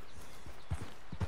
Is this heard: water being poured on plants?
no